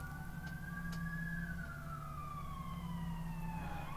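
A wailing emergency siren sweeps up and down, fairly close and steady, over a low engine rumble with no voices.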